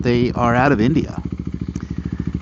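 A KTM Duke 390 Gen 3 fitted with a Barrel Rogue 2.0 exhaust idles in a fast, even, throbbing pulse. Someone talks over the start, then the motorcycle runs alone, close and loud.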